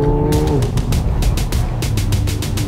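A Ferrari 812 Superfast's 6.5-litre V12 screams close by in a race, its rising harmonic tone broken by rapid gear-shift cuts into a dense, pulsing roar.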